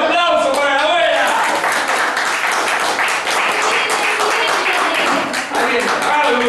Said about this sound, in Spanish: un aplauso para la abuela